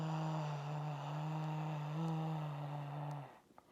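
A long, steady, droning exhale through the mouth for a J breath during labor, one sustained breath lasting about three seconds, close and fairly loud before trailing off.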